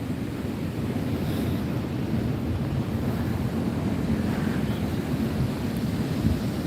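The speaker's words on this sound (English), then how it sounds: "Beautiful waves." Ocean surf rolls in on a beach in Bali between Legian and Seminyak, a steady, loud low roar of breaking waves with wind buffeting the microphone and no voices.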